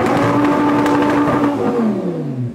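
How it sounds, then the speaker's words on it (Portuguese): An Audi R8 sports car engine revs hard and loud up close, its pitch holding high then dropping away as the throttle is released, with no talk over it. "Vamos dar um cortezinho de giro?"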